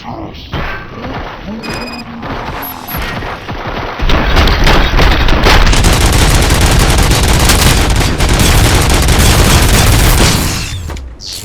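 Heavy gunfire rages in RoboCop: Rogue City, starting with scattered shots and mechanical clanks under voices, then swelling into a dense, sustained roar of automatic fire and impacts for several seconds before tapering off.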